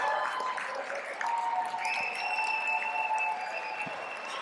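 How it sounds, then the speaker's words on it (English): An awards ceremony audience claps in sustained applause for a young award recipient, a steady moderate wash of hands with a faint tonal hum running underneath. "Big round of applause."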